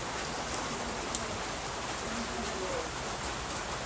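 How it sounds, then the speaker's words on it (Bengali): Steady rain falls outdoors on a football practice ground, a constant even hiss of drops with no other clear sounds. "এই বৃষ্টির মধ্যেও"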